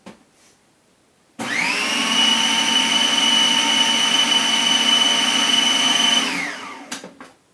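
A blender mixing liver with spices whirs steadily for about five seconds, a loud, even motor whine that starts abruptly and winds down at the end.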